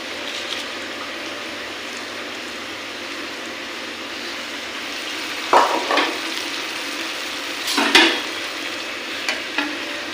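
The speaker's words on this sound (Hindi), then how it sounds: "अब इसमें हम ये चावल ऐड कर देंगे" Soaked rice for chicken biryani tips into a pot of boiling water over a steady, hissing bubbling background, with two brief splashing bursts partway through and a couple of small knocks after.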